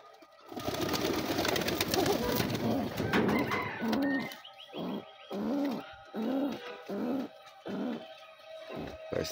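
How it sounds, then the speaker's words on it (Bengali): Pigeon chicks coo close by in soft repeated bursts, first under a rushing, clattering background and then more clearly in short, evenly spaced calls, with a voice talking early on. "তো আরো বাচ্চা আছে, কবুতর বাচ্চা এই যে এখানে।"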